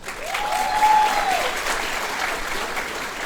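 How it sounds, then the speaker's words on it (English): Sustained audience applause fills a graduation ceremony hall, steady and dense throughout, with a brief whoop or cheer rising over the clapping early on. "Let's give them another round of applause."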